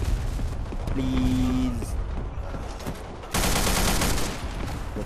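Gunfire in the online shooter Black Squad: rapid bursts of automatic shots clatter through the clip, louder in the second half, with a brief spoken word and game sounds mixed in.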